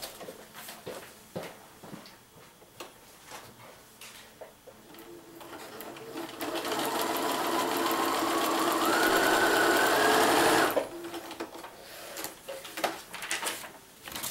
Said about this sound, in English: now I'm going to sew right on that line